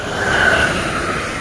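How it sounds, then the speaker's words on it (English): A train rolls past on nearby tracks in Philadelphia in winter, a loud, steady rumble with a faint metallic whine riding on top, sustained and close, with no speech over it. "That's the train."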